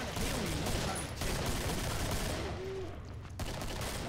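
Rapid bursts of gunfire from the video game Killing Floor rattle on continuously in a dense fusillade, mixed with game noise and a faint voice.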